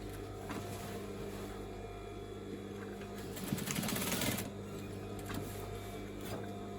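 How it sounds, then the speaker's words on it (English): A sewing machine stitching trouser fabric, a low motor hum with a brief louder, faster run of stitching in the middle, set against quiet room noise. "Let's get this little bit stitched"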